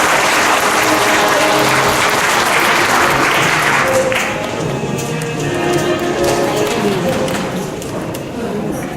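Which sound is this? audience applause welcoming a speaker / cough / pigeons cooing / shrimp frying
audience applause welcoming a speaker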